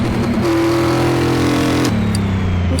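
A car engine in Car Mechanic Simulator 2018 drones loudly and continuously at a high, steady rev, with a sudden drop in pitch partway through and no talking.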